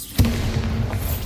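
The Bombarda blasting spell cast in Hogwarts Legacy, a single sharp booming blast with a low rumbling tail, loud and close, with no talk over it.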